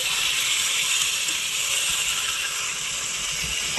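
Meat sizzling in a hot pan of cooked spices, a loud, steady broadband hiss that holds evenly throughout with faint low clatter beneath.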